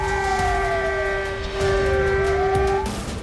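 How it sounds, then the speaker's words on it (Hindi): A loud, sustained air-raid war siren in Taiwan wails steadily, its pitch sliding down and back up, over a low rumble of background noise. "पूरे ताइवान में युद्ध के सायरन बज रहे हैं।"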